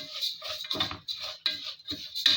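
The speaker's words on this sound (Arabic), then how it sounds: "نقلب بقى في المكرونه" Vermicelli pasta stirred in melted ghee in a pot gives soft, close scraping and clinking taps in uneven bursts, with a light crackle of fat underneath, fairly quiet throughout.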